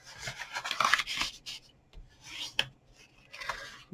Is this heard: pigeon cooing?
no